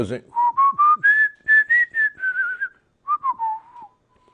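A person whistles a short melody of rising and falling notes, near and clear, in two phrases separated by a brief pause.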